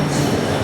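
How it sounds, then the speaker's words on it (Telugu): A passenger train starting to pull away, with a loud, steady rumble of the railcars for well under a second and no voices. "మా ట్రైన్ కదులుతుంది ఫ్రెండ్స్."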